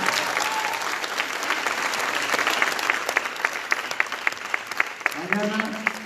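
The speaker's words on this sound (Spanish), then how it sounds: "Denle un aplauso a Cristo fuerte." A church congregation bursts into sustained, dense applause during a sermon service, loud and close, with a few voices cutting through near the end.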